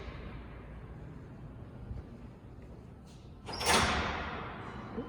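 A door in a Salt Lake City city hall room thuds shut near the end, a single muffled bang with a short ringing tail over faint indoor room noise.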